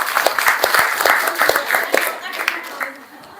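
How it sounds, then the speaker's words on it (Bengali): A small group claps in a brief burst of applause for a correct quiz answer in a classroom, the rapid claps fading out toward the end. "এনার জন্য হবে হাততালি।"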